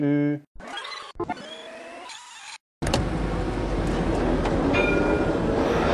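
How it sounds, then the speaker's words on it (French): A train rolls past close by in an urban setting near tram works, a loud steady rumble and rattle of rail cars filling the second half after a few brief separate noises and gaps. "on entend quand même le train ici"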